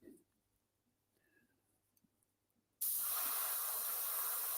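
Tamiya lacquer paint spraying from an airbrush or can: after near-silence with faint rustles, a sudden loud, steady close hiss starts and runs without pause to the end.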